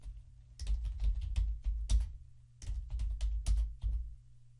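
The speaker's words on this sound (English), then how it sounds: "up here in the search plugins box, I'm going to type in contact form 7." Short bursts of typing on a computer keyboard, quick clustered key clicks with brief pauses between words, close and fairly quiet over a low steady hum.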